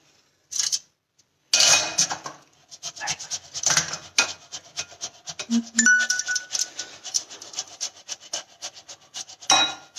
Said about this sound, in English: So first what we're gonna do is we're gonna grate these boiled potatoes.